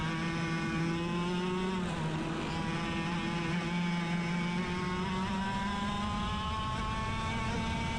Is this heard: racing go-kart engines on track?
yes